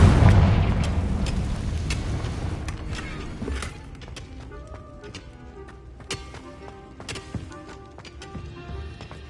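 Confringo fire curse explosion in a Harry Potter video game: a loud, booming blast at the start that rolls off into a fading rumble, then quieter scattered clicks and creaks as the scene settles.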